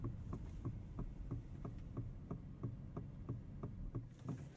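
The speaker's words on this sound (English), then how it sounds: "Turn signal sound." Turn signal of an Aston Martin DBX 707 ticking inside the cabin, a steady, even click roughly twice per second, soft and close, repeating about ten times with no talking over it.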